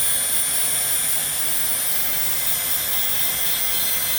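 A Dremel rotary tool wheel grinds and shapes a stone, a continuous high-pitched whine with a steady hiss, close and unbroken throughout.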